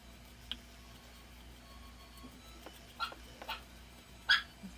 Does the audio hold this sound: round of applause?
no